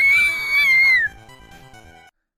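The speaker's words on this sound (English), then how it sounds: "It was a loud pitch scream." A loud, high-pitched scream sound effect rises and wails for about a second, then drops to a dull, distorted tail before cutting off abruptly.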